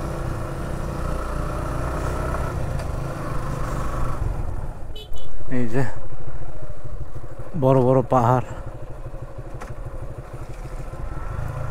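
A motorbike rides slowly along a wet hill road in the rain near Bandarban, its engine a steady low drone throughout while someone talks over it in short bursts.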